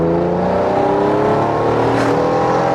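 Exhaust note of a 1991 Acura NSX engine while driving, heard as a steady, loud droning hum from inside the car with no voices.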